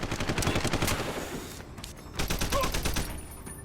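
Rapid automatic gunfire from the video game Deus Ex: Human Revolution, with dense bursts of repeated shots in two loud stretches separated by a brief lull.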